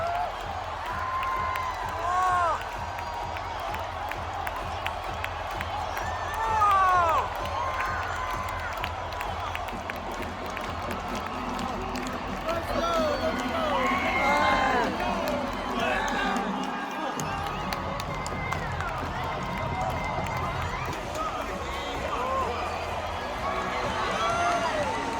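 Big NBA arena crowd at a Golden State Warriors home game in San Francisco roaring and cheering after a Stephen Curry three-point buzzer-beater, a dense sustained wall of shouting and whoops from thousands of fans, with voices audible throughout.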